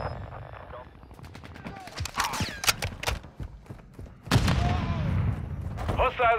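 Rapid automatic gunfire rattles in Call of Duty Modern Warfare II, with bursts of shots over layered battle noise and explosions, and voices speak in the middle of it.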